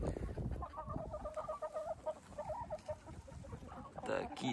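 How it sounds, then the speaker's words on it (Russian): Several chickens in a coop cluck and murmur nearby in a steady, overlapping chatter, with some rustling and a louder squawk near the end. "Так, это у нас тут курятник."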